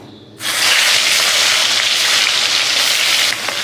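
Spice-coated prawns drop into hot oil and set off a sudden, loud, continuous sizzle that holds steady for several seconds, close up and with no talk.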